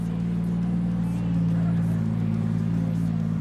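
A race car's LS V8 engine rumbles steadily up close, a deep, even throb that barely changes in pitch.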